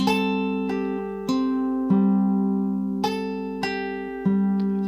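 A clean electric guitar picks a slow melody, each note ringing and sustaining into the next, about six plucked notes with no voices.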